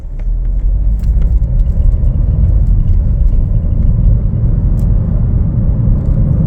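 A 2025 Chevrolet Trailblazer AWD LT picks up speed on the road, its steady low engine drone and road rumble loud and close inside the cabin, with a few faint clicks and no talking.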